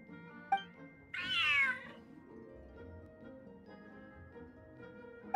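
A cat in a video game gives a single clear, drawn-out meow over soft background music, with a couple of brief clicks around it and no talk.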